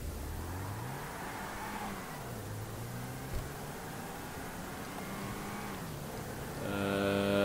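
Game car in GTA 5 Online, a Honda Civic, driving fast with a steady engine drone that rises and falls in pitch through gear shifts, then revs harder and louder near the end, with no talk.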